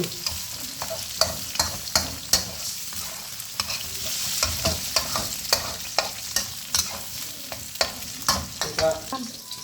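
Three eggs being stirred and scraped in a hot wok, repeated sharp metal utensil clacks over a steady oily sizzle, close and fairly loud, no voices.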